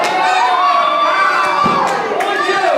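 A loud wrestling-show crowd cheers and shouts continuously, with high excited yells rising over the steady roar of a packed arena.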